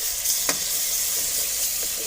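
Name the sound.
tomatoes frying for masoor dal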